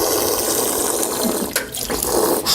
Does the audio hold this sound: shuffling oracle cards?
no